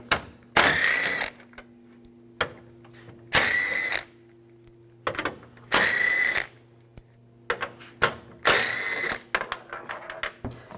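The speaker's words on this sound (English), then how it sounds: "And take these screws out. Use a 10mm socket." Screws on a 2007-2013 Chevrolet Silverado headlight cover being removed with a 10mm socket, heard as four bursts of whirring tool noise separated by short quiet gaps, with small clicks and taps in between.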